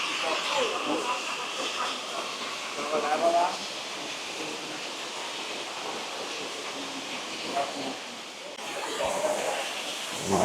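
Kanto Lampo waterfall in Bali rushes in a steady, broadband hiss heard from nearby stairs, constant and fairly loud, with brief bursts of people talking over it.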